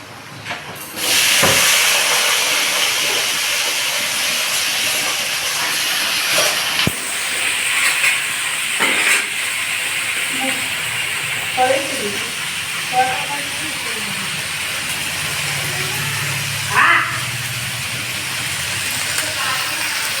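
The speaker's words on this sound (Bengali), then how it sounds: "পেঁয়াজ ভাজছি এখন।" Onions frying in a pan while cooking a festival meal: a steady broadband hiss and sizzle runs through most of the clip, with occasional clinks and stirring sounds, and a voice speaks intermittently over it.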